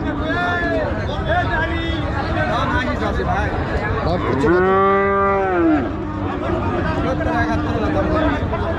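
At a crowded cattle market in Panchbibi, a loud, close moo sounds once and lasts over a second, surrounded by continuous babble of traders and people talking nearby.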